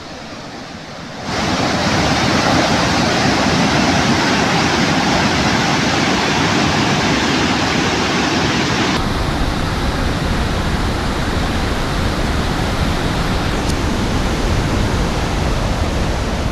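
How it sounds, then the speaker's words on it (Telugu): Bogatha waterfall in flood after heavy upstream rain, a loud, steady roar of churning water that fills the whole scene and continues unbroken, with no voices. "ఎగువ ప్రాంతాల్లో కురుస్తున్న భారీ వర్షాలతో బొగతా జలపాతానికి వరద పోటెత్తింది"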